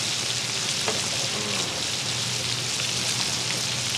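Fish sizzling in hot oil in a pan, a steady dense crackle and hiss that fills the whole moment, close and constant with faint bubbling underneath and no talk.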